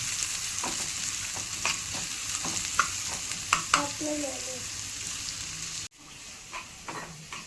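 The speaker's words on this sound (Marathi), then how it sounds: "एक कांदा घेतलेला आपण त्यात आपण त्याला फ्राय करूया चांगला लाल होईपर्यंत थोडासा" Chopped onion fries in hot oil in a pan for an egg gravy, giving a continuous close sizzle with scattered stirring clicks and scrapes, followed by a brief drop in level, then frying resumes.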